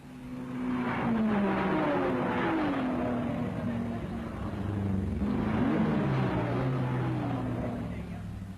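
A Triumph TR4 TRS racing car engine drones steadily at a distance at the 1961 24 Hours of Le Mans, its pitch sweeping up and down as it accelerates and passes, fading slightly in the middle.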